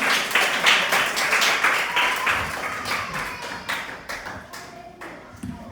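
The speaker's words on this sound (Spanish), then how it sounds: "Démosle un fuerte aplauso al Rey de Reyes y Señor de Señores." Church congregation applauding during a Spanish-language service, a dense round of hand claps with distinct sharp slaps, fairly close, gradually thinning and fading over several seconds, with a faint voice underneath.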